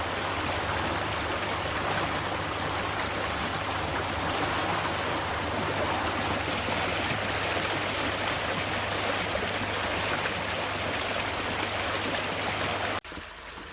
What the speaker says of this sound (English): the bubbles and waves that are created by the boat moving through the water